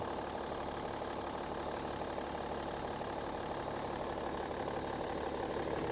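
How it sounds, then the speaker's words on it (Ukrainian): The 3.0-litre diesel engine of a 2006 BMW X5 idles with a low, even rumble and hiss, unchanging throughout and with no voices. "Шикарна робота двигуна."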